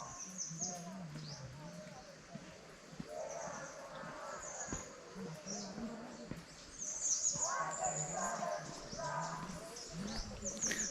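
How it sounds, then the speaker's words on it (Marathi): Several birds call and chirp intermittently at a moderate distance in forest at Vasota Fort, Satara, India, with softer cooing notes among them in a quiet outdoor setting. "पक्ष्यांचे आवाज खूप ऐकायला येतात"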